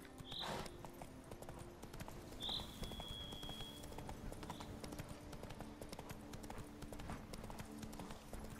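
Horse hooves clip-clop steadily while riding in The Witcher 3, a rhythmic mid-level trot running throughout over game ambience, with a couple of brief high chirps near the start.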